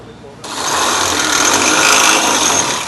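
A power drill cuts through an aluminium truck tray mount with a loud, sustained high-pitched whirring grind starting abruptly after a quiet moment, with a voice speaking nearby.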